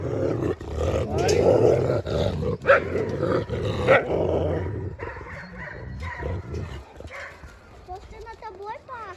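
A wolf-dog hybrid growls and rumbles close by in a continuous low roar, fading into softer snarls and snorting toward the end.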